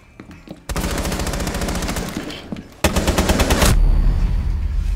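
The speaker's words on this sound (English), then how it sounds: "His gun is so fucking strong for no reason." Automatic gunfire in Rainbow Six Siege on the Consulate map, two long loud bursts of rapid shots in close succession, with a few scattered single shots at the start.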